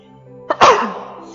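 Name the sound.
sneeze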